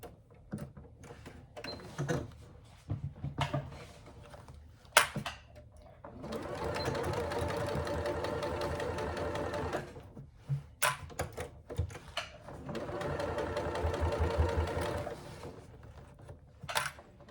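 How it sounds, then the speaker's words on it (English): A sewing machine stitches a faux leather handbag side panel in two long continuous runs, with short pauses and handling clicks between bursts, close and steady. "So start stitching with the side panel facing up and we're going from the top down."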